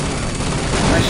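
Dense, loud continuous gunfire in the video game Team Fortress Classic, a sustained rattling barrage with voices shouting over it.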